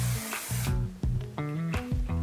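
Short hissing sprays of hairspray burst out in a quick series, close and fairly loud, with brief gaps between each spritz.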